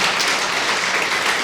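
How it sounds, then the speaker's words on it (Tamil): An audience at a Tamil astrology talk claps in a brief, steady burst of dense applause with no break. "ஒரு கைத்தட்டல் போடுங்க."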